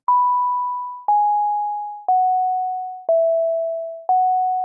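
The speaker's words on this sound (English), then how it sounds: "So I transcribed Edvard Grieg's Morning Mood from Peer Gynt." Five slow, pure sine-like synth notes from Sonic Pi play Grieg's Morning Mood from Peer Gynt, each starting with a soft click and fading, evenly spaced about a second apart and gently stepping down in pitch.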